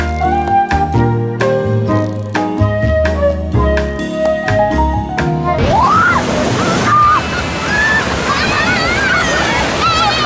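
A big ocean wave breaks with a surging roar and foamy wash, arriving midway after a stretch of music and then filling the rest loudly, with voices shouting over it.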